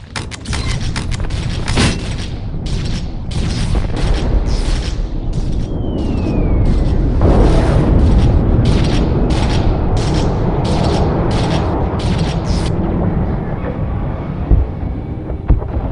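Loud, dense battle din from the strategy game Dawn of War Winter Assault: repeated bursts of gunfire and heavy booms pound over a continuous rumbling background.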